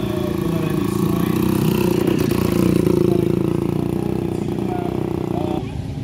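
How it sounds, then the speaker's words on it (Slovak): A two-stroke DKW 250 motorcycle engine runs steadily nearby with a continuous mid-pitched drone and light clatter, fairly loud throughout before easing slightly near the end; no speech is heard over it. "Toto nie je štvortakt, ale je to dvojtakt DKV 250."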